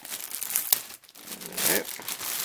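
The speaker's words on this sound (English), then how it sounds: "One big bag of molded in white plastic here." A plastic bag holding white molded parts of a 1953 Ford Victoria Lindberg 1:25 scale model kit crinkles close up in short, uneven rustling bursts, with a brief sharp crackle.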